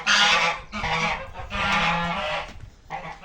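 Geese honking loudly and close, a dense, raucous chorus in several bursts with brief pauses between them.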